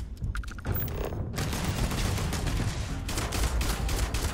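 Gunfire from a newly switched gun sounds in Starfield. After a brief quiet start, loud sustained rapid shots crackle for most of the clip, with no talk.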